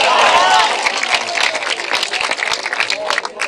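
An audience at a Punjabi poetry gathering claps in a loud, dense burst that thins into scattered claps, with voices and crowd noise mixed in.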